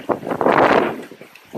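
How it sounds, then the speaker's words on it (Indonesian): A strong windstorm batters boats at the Wesai Hotel in Raja Ampat, a brief loud rushing gust of wind buffeting the microphone, swelling then easing off. "Terjadi angin ribut di Wesai Hotel Raja Ampat."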